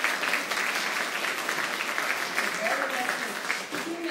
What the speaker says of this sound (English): let's give Chief June Saunders a round of applause again